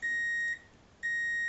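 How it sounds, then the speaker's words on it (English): A tank level alarm sounds because its high set point has been exceeded, giving two loud, steady electronic beeps with a short silent gap between them. "The alarm that you're hearing is the set point having been exceeded."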